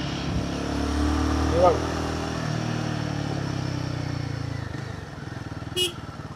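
A Royal Enfield Guerrilla 450, a 450cc motorcycle, is ridden with a low steady engine drone and a brief louder swell early on, heard fairly quietly with wind and road noise over it.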